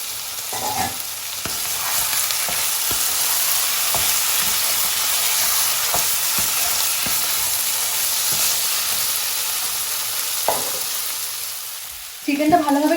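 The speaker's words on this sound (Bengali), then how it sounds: "ঢাকা দিয়ে এটাকে আমি একটু কুক হতে দেবো।" Chicken cooks in a covered pan, giving a steady, even hiss of frying that runs throughout with faint scattered ticks, then a louder clatter and rattle right at the end.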